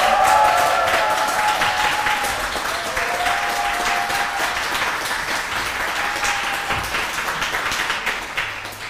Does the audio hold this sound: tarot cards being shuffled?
no